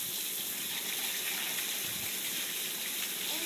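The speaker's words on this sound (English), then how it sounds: "Hey Ryan, can you turn Westbrook's water down?" Water running steadily from a tap, a constant close hiss with no breaks and no talk, recorded indoors on a rainy day.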